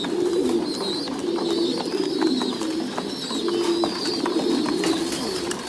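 Thai Titan meat pigeons coo steadily in a breeding coop, with several birds producing overlapping low, repeated coos. Fainter chirps from young birds and light coop noise sit underneath throughout.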